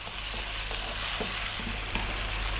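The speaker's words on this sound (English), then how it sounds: "We're going to go now for about 6 minutes, just frying this chicken around." Chicken for an Indian dahi chicken curry sizzling and frying in a hot pan, a constant hissing crackle with occasional stirring scrapes, close up and without speech.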